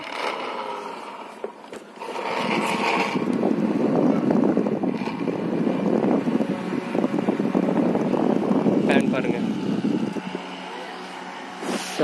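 A battery-powered, solar-charged emergency electric fan blows strong air, a steady broad rushing whoosh that holds for about eight seconds close to the microphone before easing off.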